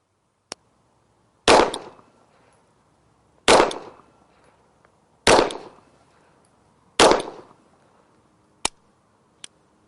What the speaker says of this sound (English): we're simulating a stoppage on the range